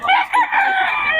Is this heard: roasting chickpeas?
no